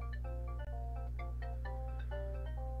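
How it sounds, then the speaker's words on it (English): A phone rings with an incoming call as a clear repeating electronic melody of bright stepped tones, steady and close over a constant low hum, with no talking. "Oh, that is a phone call."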